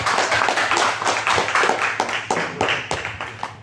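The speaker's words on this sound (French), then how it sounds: "Donc un texte de Bruno Vessière, qu'on peut applaudir également." A small audience at a wine-and-writing competition claps, the individual hand claps distinct and rhythmic, close and fairly loud, gradually loosening toward the end.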